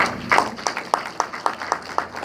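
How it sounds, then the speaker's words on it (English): Community members clap at a police academy community gathering, a thin run of evenly spaced, crisp claps repeating steadily and fairly close, with no talk over them. "give yourselves a round of applause"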